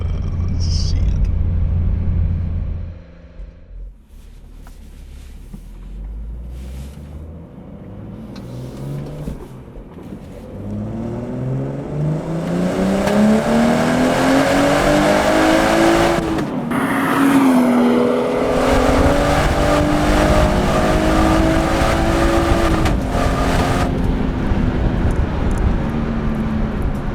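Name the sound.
BMW 340i xDrive B58 engine accelerating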